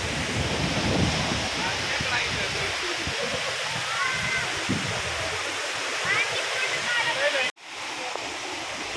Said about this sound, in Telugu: చిన్న వాటర్ ఫాల్స్ ఉన్నాయి.